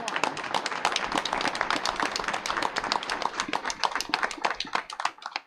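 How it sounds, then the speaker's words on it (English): A room full of board meeting attendees claps for twenty-one retiring school district staff, a dense patter of many hands sustained for several seconds and fading at the end. "Give a round of applause for that."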